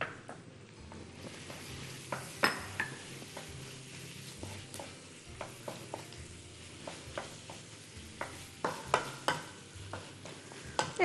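Liver and celery root are stirred in a frying pan, sizzling quietly and steadily. Sharp scrapes and clicks of the utensil against the pan come through clearly and irregularly.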